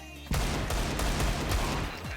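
Rapid gunfire from the game Counter-Strike starts abruptly and runs as a dense, loud automatic burst of overlapping shots for about two seconds.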